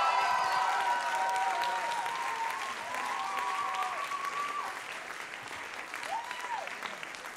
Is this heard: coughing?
no